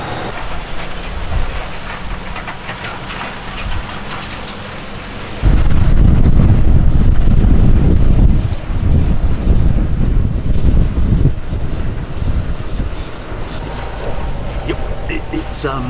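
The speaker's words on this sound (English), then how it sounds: "I can confirm it's raining." Hard rain falls across a harvest field in a loud, dense, continuous roar with a deep rumbling undertone that swells heavier midway and stays steady to the end.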